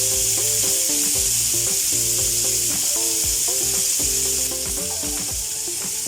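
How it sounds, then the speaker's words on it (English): Chicken pieces frying in really hot oil in a pan, a constant loud sizzle and crackle with occasional clinks of a utensil moving the meat. "We are frying the chicken just to get the outer golden crispier"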